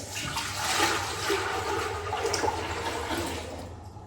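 Pot roast stew ingredients being poured from one pot into a bigger pot, a continuous close, sloshing liquid pour with a steady rushing wash that tapers off at the end.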